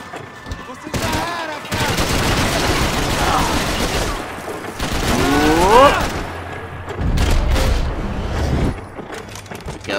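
Gunfire in the video game Max Payne 3, with rapid sustained bursts of shots and booms layered with game effects and pitch-sweeping sounds, fairly loud and dense throughout.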